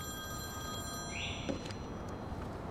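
A telephone rings with a steady electronic tone in a quiet indoor room, fairly soft and heard alone with no talking.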